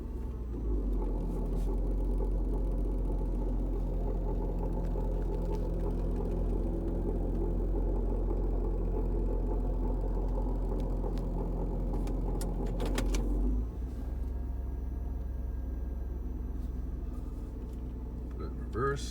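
A 2002 Kia Sedona minivan with an engine noise fault idles steadily, a loud continuous low rumble with a droning hum, shifting slightly partway through as the transmission is moved into drive; no talking over it.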